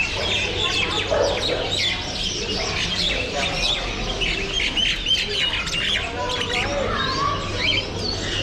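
Many birds squawk, chirp and coo at once in a dense, continuous chorus at an animal market in Kuwait, with a low hum and faint voices in the background.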